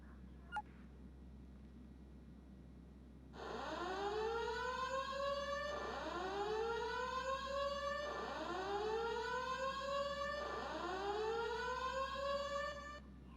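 A fire alarm system test in GTA 5 with the Fire Alarm Reborn mod: a looping electronic siren whose pitch sweeps upward in repeated whoops, starting after a brief click and continuing steadily at moderate level.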